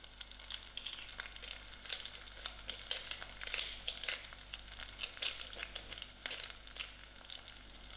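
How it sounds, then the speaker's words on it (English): Onions fry in a pan as barbecue spice goes in, a close, quiet crackling sizzle with scattered pops and light stirring rustles running steadily throughout, no voices. "To my onions, I'm going to add in my spices, which is the barbecue,"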